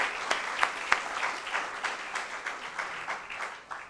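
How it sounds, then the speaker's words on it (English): A crowd at a first-year engineering induction and orientation program applauds with steady, dense clapping and a few sharper claps standing out. "Round of applause."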